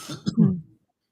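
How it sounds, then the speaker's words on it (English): A single close cough flows straight into a short, gravelly throat clearing, loud and brief, ending in silence. "I had to cough, so I muted my mic"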